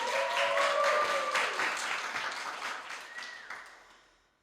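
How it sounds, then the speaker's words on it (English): Audience clapping at a live performance, a dense wash of applause with a faint sung tone above it, steadily fading to near silence by the end. "You have to clap anyway."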